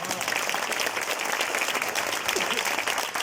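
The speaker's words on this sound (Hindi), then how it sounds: "ताली पीड़िए।" Audience at a youth day gathering applauding, a dense continuous wash of clapping from a crowd that holds steady throughout, moderately loud with no speech on top.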